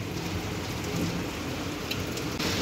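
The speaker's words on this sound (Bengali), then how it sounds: "অনেকই বৃষ্টি হচ্ছে" Heavy rain pours down in a dense, unbroken roar close by, with no voices.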